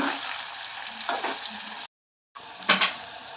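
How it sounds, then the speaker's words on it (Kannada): Onions frying in a pan for tamarind gojju give a continuous close sizzle with a few stirring scrapes, broken by a brief silent gap before the hiss resumes. "ಅದು ಫ್ರೈ ಆಗ್ತಾ ಇದೆ, ಇನ್ನೂ ಸ್ವಲ್ಪ ಈರುಳ್ಳಿ ಫ್ರೈ ಆಗಬೇಕು"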